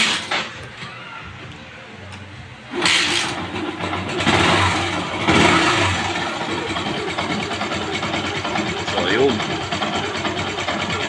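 A motorcycle engine cranks and catches, then settles into a steady, slightly rough idle with occasional revs, fairly close.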